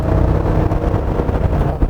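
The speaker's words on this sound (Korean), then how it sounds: "요 정도의 부밍음과 엔진음을 갖고 있는데" A Chevrolet Tahoe's V8 engine accelerates with a deep, booming drone that rumbles steadily and loudly for about two seconds, close to the listener, with no talking.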